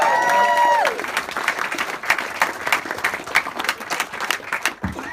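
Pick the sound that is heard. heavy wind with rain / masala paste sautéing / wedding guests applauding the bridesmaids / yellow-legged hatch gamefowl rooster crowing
wedding guests applauding the bridesmaids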